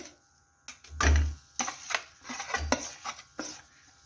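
A spoon stirs pea kachori filling mixed with amchur powder in a metal pan, giving close scraping and clinking strokes in an uneven rhythm with a faint sizzle underneath.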